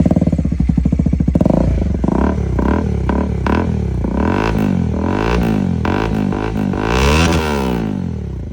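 Bajaj Pulsar NS400 motorcycle fitted with a MIVV exhaust and dB killer removed, idling with a rapid burbling thump before being blipped through several sharp revs that rise and fall, loud and close.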